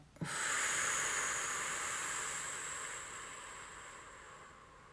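A person slowly exhales a long, steady breath during a relaxation exercise, a soft, airy hiss that rises quickly and then fades gradually over several seconds.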